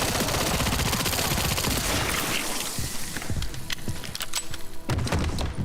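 Sustained rapid gunfire from a magazine emptied in a video game, a dense continuous burst that thins into scattered shots and thuds near its end, no talk.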